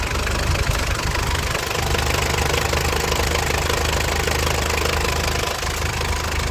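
A Mitsubishi Strada 2.8 GLX diesel engine idles steadily up close, a loud, constant low rumble with a faint rhythmic knock and no talking over it.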